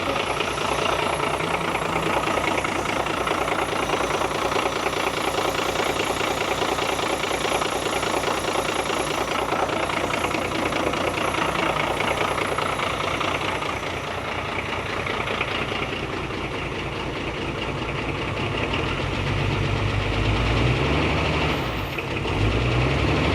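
A diesel engine on the CJL-10 build runs steadily for a long stretch, a loud, rough, knocking idle close by with little variation and a slight dip midway.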